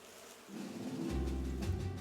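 A low, steady buzzing swells in and holds, like bees droning nearby, with no voices.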